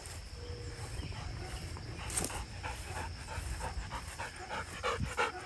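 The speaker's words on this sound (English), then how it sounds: "That's a good dog." A dog named Nikki pants steadily and close by, with rapid breathy puffs that continue in a rhythmic stream over low background rumble.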